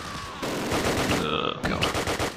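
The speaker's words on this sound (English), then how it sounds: "Oh, that is an MG42." Rapid bursts of MG42 machine-gun fire in the wartime strategy game Close Combat, loud close rattling volleys with a short break in the middle.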